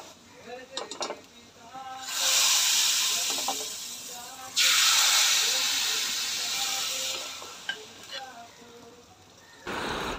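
Steam hisses loudly in two long bursts from a pot of beef curry, with quieter kitchen sounds and faint talking in between.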